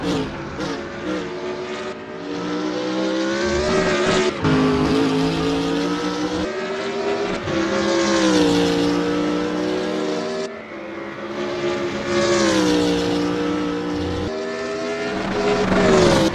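BMW Z4 GT3 race car in a sim racing game at Lime Rock Park, engine howling loud and close as it climbs and drops through gear changes, with brief lifts and shifts repeating through the lap.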